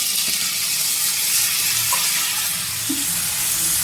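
Chopped onion, tomato, two garlic cloves and green chili with ginger paste fry in a pan, giving a steady, close sizzle throughout with a few faint stirring clinks.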